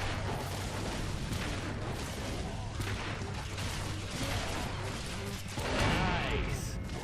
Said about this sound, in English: You can sort of hear they have like a fireworks sound almost.